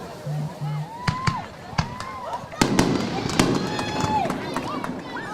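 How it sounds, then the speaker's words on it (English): Fireworks bursting at a high school football game, a run of sharp, loud cracks and booms spaced irregularly then thickening into a dense rumbling barrage, with crowd noise and an announcer's voice over the top. "As we get more fireworks, I'm surprised they haven't run out yet."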